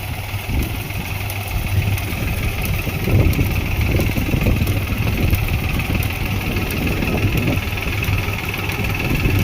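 A tractor engine runs a crop sprayer pump while spraying pendimethalin on a groundnut field, holding a steady, loud mid-range drone with a rough, vibrating throb and no change in pace.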